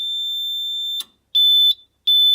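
A building fire alarm system sounds during a test, with a shrill, loud electronic tone that holds steady and then breaks into shorter repeating beeps separated by brief silences.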